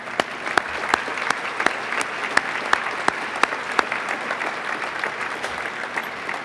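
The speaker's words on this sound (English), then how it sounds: "Give them a round of applause." Audience applause at a 75th anniversary awards gala, steady sustained clapping from a large crowd with distinct sharp claps standing out near the front, no talking.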